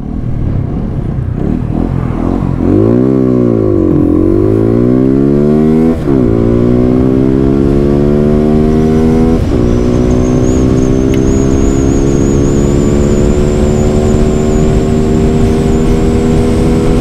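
A TVS Apache 200 motorcycle engine revs hard at full throttle and climbs steadily in pitch through the gears, loud and close, with no one speaking.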